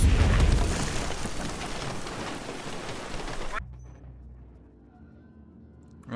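A big explosion in the video game Aliens: Dark Descent, a loud rumbling blast with a crackling debris tail that cuts off abruptly partway through, leaving a low, quiet background.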